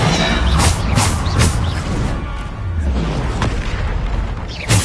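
Bombarda spell explosions in the video game Hogwarts Legacy: loud, dense blasts and crashing booms following one another rapidly and continuously, with heavy low rumble throughout.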